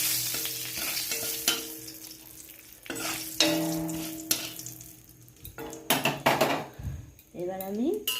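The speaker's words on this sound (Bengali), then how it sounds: "এবার এই পটল ভাজার তেলেই আমি 5 ফোড়ন দিলাম, শুকনো লঙ্কা দিলাম" Panch phoron and dried red chillies crackle and sizzle in the oil left from frying pointed gourd in a kadai, with steady spattering, stirring scrapes and pan clinks up close, and a brief voice near the end.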